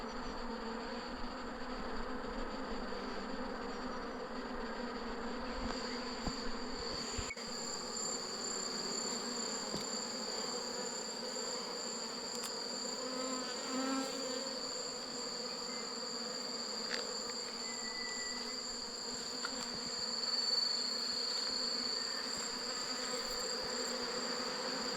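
A swarm of honeybees, just brought down from a tree and set into frames, buzzes steadily all around, some flying low over the ground, a dense continuous hum without talk.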